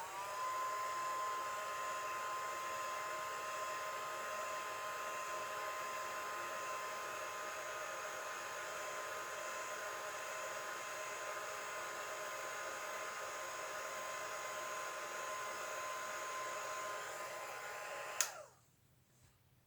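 A hair dryer blows steadily for almost twenty seconds, drying an alcohol ink painting, with a constant close whine and rush before clicking off abruptly.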